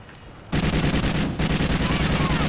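Sustained, loud automatic gunfire with incendiary rounds in the Call of Duty-style Extinction mode Nightfall map, starting abruptly after a quiet moment and continuing in rapid rhythmic bursts with a brief pause midway.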